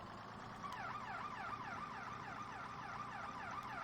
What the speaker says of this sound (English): We'll get the sirens on.